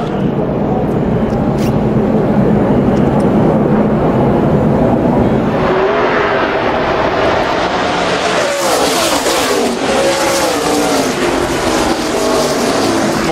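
NASCAR Sprint Cup stock cars race at full throttle on a restart at Charlotte, a loud engine roar that builds and sweeps past as the pack passes, with overlapping cars howling together.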